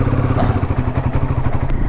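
A motorcycle cruises along a highway in Odisha, its engine a loud, close, steady pulsing thrum with a regular low beat and wind rush, without talk.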